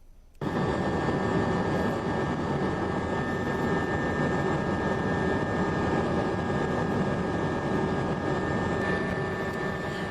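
An OV-10 military aircraft in flight over Banda Aceh after the 2004 tsunami gives a loud, steady engine drone that holds without a break throughout.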